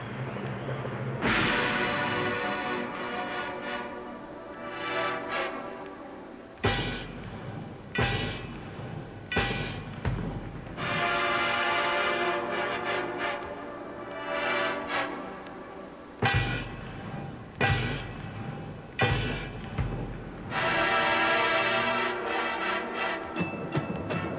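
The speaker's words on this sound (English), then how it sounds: "These percussionists near the front, too, as you just saw with the gong and the chimes" A 1982 Drum Corps International percussion line plays gong crashes and ringing chimes amid full brass and drums, loud with repeated sharp hits and sustained shimmering tones.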